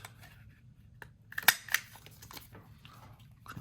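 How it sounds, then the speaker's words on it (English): Scissors snipping a circle out of paper scraps for a boho-style journal: a few quiet, close cuts clustered together, with a couple of sharper snips, set against a low background hum. "Okay, so we're gonna cut a circle out of this."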